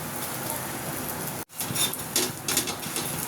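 A paratha shallow-frying in a hot pan, giving a steady close sizzle and spitting crackle with a brief cut partway through.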